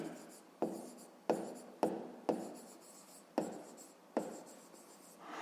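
A number being handwritten on paper, about seven short scratchy pen strokes, each starting sharply and fading, close and clear with no talking.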